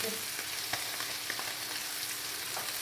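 Zargan fish fry in a pan with a dense, steady crackling sizzle, close and even, flecked with small oil pops and no voices.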